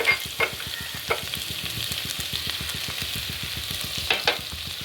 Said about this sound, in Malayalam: നമ്മൾ ഉലുവയും കുറച്ച് പെരുംജീരകവും നമുക്ക് ഈ എണ്ണയിലേക്ക് ഇട്ട് കൊടുക്കാം